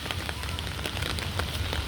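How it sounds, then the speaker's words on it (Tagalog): Heavy rain pours steadily, a dense close hiss of drops pattering on surfaces with no break. "Yan, lumakas na ang ulan."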